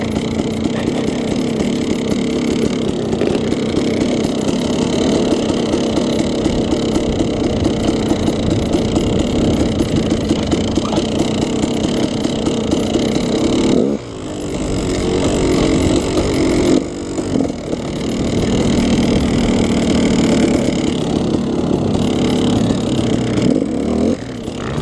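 A KTM 350 dirt bike engine drones steadily and loudly throughout, close by, with a brief dip in revs partway before the constant roar resumes.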